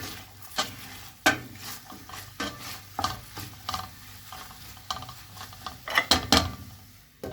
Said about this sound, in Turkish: Soğanı biraz kavrulsun.